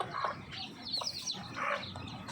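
Baby chicks feed on pieces of boiled egg, giving off faint, high, repeated peeps and soft clucking chirps in short bursts close by.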